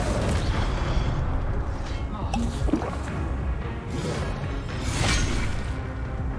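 An Incendio fire spell cast in a wizard game, a whooshing fiery burst with booming rumbles and crackling flares repeating over a few seconds, mixed with game noise and nearby talk.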